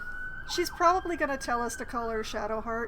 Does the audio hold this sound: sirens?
yes